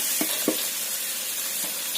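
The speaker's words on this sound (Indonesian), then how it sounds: "Kita tumis sampai wortelnya matang." Carrots sautéing with ground spice paste in a pan over medium-low heat give a steady soft sizzle throughout, broken by a couple of brief stirring scrapes near the start.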